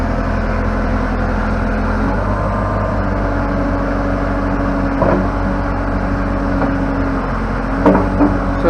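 A backhoe engine runs steadily while working a slippery wet clay dam bank beside a pond, a loud continuous diesel drone with occasional clanks and shifts in load.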